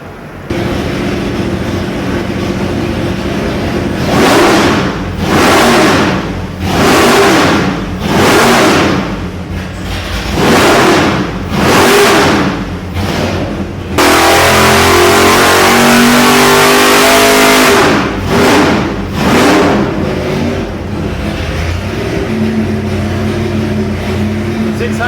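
Nelson Racing 572 cubic inch big block Chevy crate engine with an Alien intake, revved repeatedly in loud rhythmic bursts, then held at a roaring high rev for several seconds before more quick blips, close and powerful.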